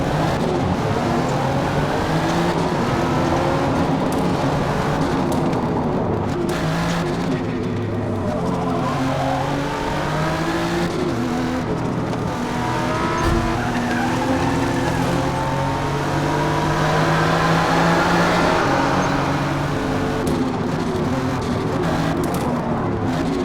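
Race cars roar around the Fujimi Kaido mountain course in Forza Motorsport, engines loud and sustained as they rev up and down through gears, with tire squeal and cars passing close by, no talking.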